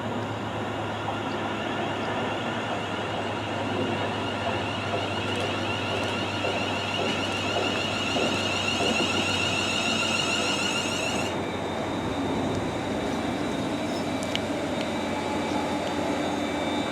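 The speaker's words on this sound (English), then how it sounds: "So we're going to see this train coming now to take us to Landywood." A train bound for Landywood rumbles steadily into the station with a continuous low roar and a high whining tone that drops away partway through; no voices.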